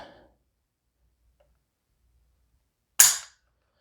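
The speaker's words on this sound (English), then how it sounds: "let's put it on the trigger scale here, and we'll see what the weight comes in at." A single sharp click sounds as the trigger of a PSA 10.5-inch 5.56 NATO AR pistol breaks on a trigger scale, close and crisp against near silence.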